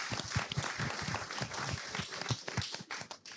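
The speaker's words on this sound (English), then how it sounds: "I'll give it a round of applause for that answer" Small audience giving a round of applause during a panel discussion on love, scattered distinct hand claps at close range, quiet and brief, fading toward the end.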